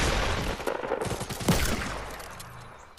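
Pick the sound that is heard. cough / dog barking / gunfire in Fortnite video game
gunfire in Fortnite video game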